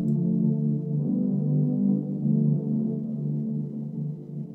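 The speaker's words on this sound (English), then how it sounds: "I'll begin by recording a synth pad in Synth 1 and with some big reverb by the Valhalla Shimmer plugin." A sustained, low, warm synth pad from the Synth1 plugin, drenched in big Valhalla Shimmer reverb, swells and holds smoothly for several seconds with gently shifting harmonics and no other sounds.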